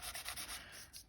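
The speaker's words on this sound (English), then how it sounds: "So either just normal sandpaper or a sanding block, depending on what they're like." Sandpaper roughs up thin alphanumeric craft stickers in quick, soft scratchy strokes, a brief, faint rhythmic rubbing heard up close.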